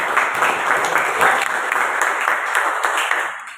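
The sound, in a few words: classroom applause for the day's activity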